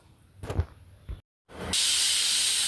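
A pressure cooker with pumpkin inside lets out a sharp burst of hissing steam, with short rumbling bumps before it and then a loud, steady, continuous steam whistle.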